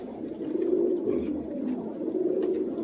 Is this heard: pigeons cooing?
yes